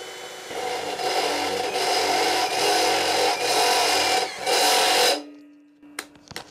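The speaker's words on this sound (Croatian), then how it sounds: "I idemo sa stepenastom burgijom," Harsh, grinding rasp from a Ryobi R18PD7 cordless drill boring with a step drill bit, running in loud sustained bursts with short dips, then stopping abruptly into a brief fading whine and a few clicks.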